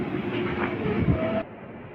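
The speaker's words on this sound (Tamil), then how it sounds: "நம்ம ட்ரெயின் ஓமலூர் ஜங்ஷனுக்குள்ளே என்டர் ஆகுது" The Mettur Dam Express pulls into Omalur Junction station with a steady rumble and rolling clatter, a faint squeal rising near the end before the noise abruptly drops to a quieter hum.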